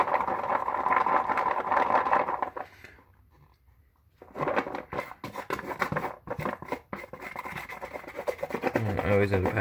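Wet primed Veline red stars being scraped, giving rough raspy scratching strokes with a short quiet pause in the middle and close, irregular scraping after it.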